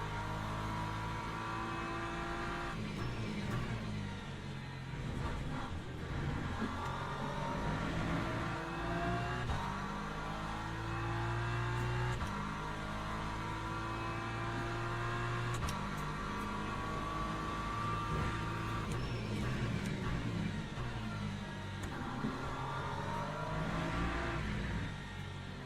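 Race car engines in Le Mans Ultimate whine and rev continuously, rising and falling with gear changes, steady and prominent with no talk over them.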